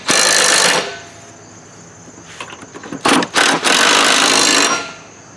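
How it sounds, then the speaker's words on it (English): An impact wrench drives the pulley bolts on a John Deere lawn tractor mower deck, with a loud opening burst, then a few short stuttering taps and a longer sustained run before it cuts off. "All right, so we'll run them in with the impact."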